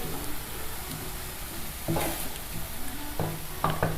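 Finely chopped medium onion and minced meat fry together in a pan with a continuous soft sizzle, broken by a few light scraping clinks as the mixture is stirred.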